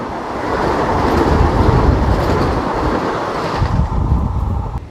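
A saffron Vande Bharat express roars past on the rail line, a loud continuous rush of wheels and wind buffeting the microphone, swelling and holding for several seconds before easing slightly.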